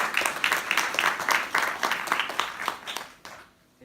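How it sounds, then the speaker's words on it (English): Applause from a modest audience at a talk on the Bhagavad Gita, with distinct rhythmic claps in rapid succession that thin out and stop abruptly near the end, leaving near silence. "So big round of applause again to the"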